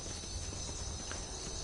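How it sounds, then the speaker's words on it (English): A horse walks in Skyrim Anniversary Edition on PS5, its steady hoof clip-clop close and continuous over the game's ambient background. "But this is my horse there."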